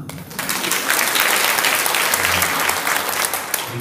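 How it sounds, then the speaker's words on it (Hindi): Audience clapping fills a welcome ceremony for a singer at a spiritual service centre, a dense, steady burst of applause that starts abruptly and stays loud throughout with no voices over it. "तालियां ठीक से बजाना"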